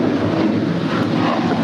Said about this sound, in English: This departure is Alaska Airlines Flight 351 departing to SeaTac. It's a 737-800.